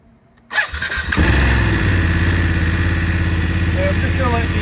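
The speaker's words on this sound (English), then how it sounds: "Let me get the bike started up and you can hear how she sounds." A 2022 BMW F750GS motorcycle engine cranks and catches after a brief quiet moment, then settles into a loud, steady idle that holds close by to the end.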